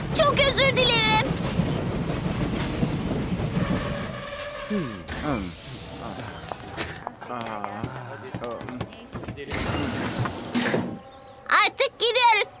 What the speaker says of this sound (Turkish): Tren bugün geç kaldı. İşte geliyor.